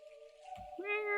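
A cat meows indoors: a thin drawn-out tonal call, then a fuller, louder meow near the end, with a soft low bump between them.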